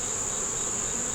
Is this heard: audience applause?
no